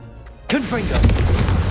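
Casting the Confringo blasting spell in Hogwarts Legacy sets off a sudden loud burst followed by a rumbling explosion that sustains to the end.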